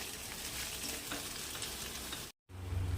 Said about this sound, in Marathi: याला छान असं भाजून घ्यायचा एक ते दो दोन मिनिट किंवा थोडं जास्त येईल